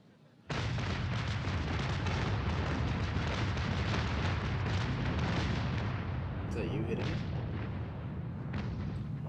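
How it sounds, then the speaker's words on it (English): Ship cannons fire a broadside in the Naval Action naval combat game, a loud continuous barrage of rumbling booms rolling on for several seconds, with no speech. "I threw broadside into him"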